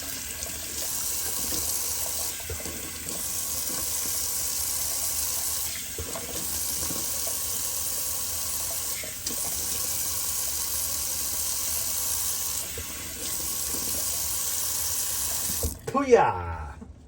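Tap water runs steadily into a kitchen sink in a loud, continuous gush that holds for about sixteen seconds, then cuts off with a brief clatter at the end.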